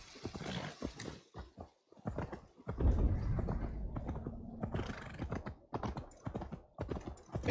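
A horse being ridden across the countryside in Assassin's Creed Valhalla, its hooves thudding in quick irregular clip-clops near at hand, with a snort or whinny along the way and no talking.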